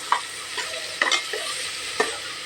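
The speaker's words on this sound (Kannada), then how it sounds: "ಇದನ್ನು ತುಪ್ಪದಾಗ ಫ್ರೈ ಮಾಡ್ಕೊಳ್ಳೋದು," Spinach frying in ghee for palak rice, with a quiet background sizzle under a handful of sharp, close clicks and scrapes from a spoon stirring against the pan.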